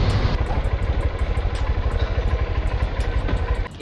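A Honda X-Blade motorcycle with over a lakh kilometres on it runs at a steady idle close by, its engine thrumming in a continuous pulsing rhythm with light mechanical clatter.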